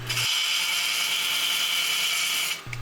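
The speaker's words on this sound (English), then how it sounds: "I'm using a large bowl gouge here to take off some big hunks and to take those corners off." A large bowl gouge cuts wood on a spinning lathe, taking off big corners from a bowl blank: a steady, loud, continuous hissing shear that runs unbroken for over two seconds before stopping, with the motor hum beneath.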